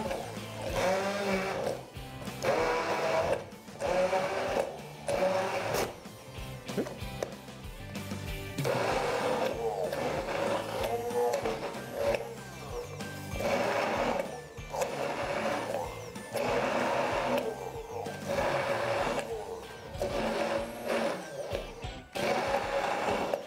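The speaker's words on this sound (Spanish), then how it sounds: "Vamos a procesar nuevamente con mucho cuidado, logrando" Food processor pulsing cilantro pesto into a paste, a whirring motor in repeated bursts of roughly a second or two with brief pauses between, loud and close throughout.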